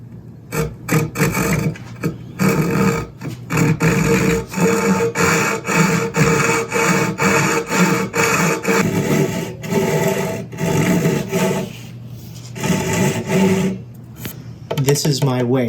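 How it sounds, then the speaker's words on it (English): Handsaw cutting through a wood workpiece for breadboard ends on a drawing board, a steady run of close rasping back-and-forth strokes with a brief pause near the end. "We're going to do clip off the wings, which we're going to do with the handsaw"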